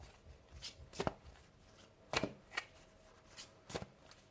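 Tarot cards are shuffled in a few short riffling bursts separated by pauses, close and fairly quiet, with no talk.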